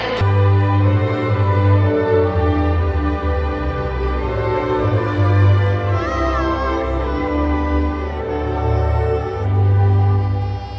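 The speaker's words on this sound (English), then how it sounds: "The sounds you just heard from the didgeridoo" Young Raphael plays a didgeridoo before an Australia versus England match: a loud, steady, deep droning tone with rich overtones, holding unbroken throughout.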